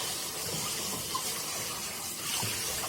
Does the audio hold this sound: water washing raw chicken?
yes